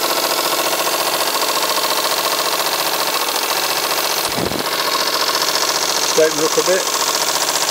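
A Stuart Isis Star model steam engine running on new pipe work, a steady rapid mechanical beat close by with a brief dip midway, while someone speaks over it.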